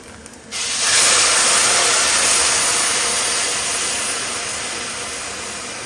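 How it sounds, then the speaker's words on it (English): A loud, steady hissing rush of boiling water poured into a pot of beef mince, starting abruptly and continuing with slowly fading intensity, no voices. "And add some boiling water."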